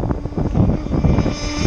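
A small ZippKits Super Sport model boat engine runs loud and close, a buzzing, revving whine that rises and falls quickly over a couple of seconds, with no talk over it.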